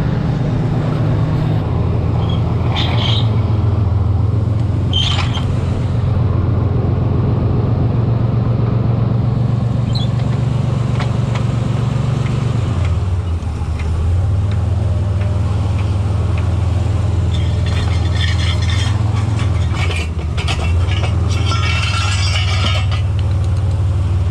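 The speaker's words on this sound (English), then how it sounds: "Let's go for a test drive." 1988 Chevy S10 pickup with a 4.3L V6 out on a test drive, a steady loud low engine drone with road rumble and faint interior rattles and clinks, rising and easing slightly as it drives.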